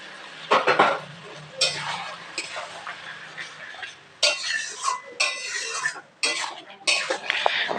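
Fish head and bottle gourd curry is stirred in a pan with water added, giving loud, close bursts of spatula scraping and metal clatter in irregular strokes, no talk.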